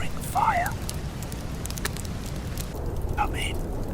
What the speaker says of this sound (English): where you can cozy up by a roaring fire,